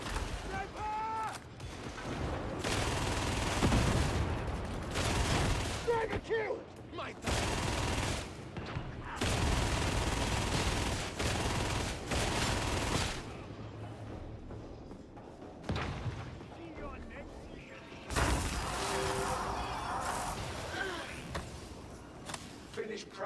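Gunfire in the Warhammer 40,000: Darktide video game, bursts of rapid shots and heavy booming blasts in clustered volleys broken by short pauses, loud and close, mixed with game voices.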